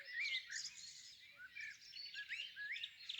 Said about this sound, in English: I think it's just a song thrush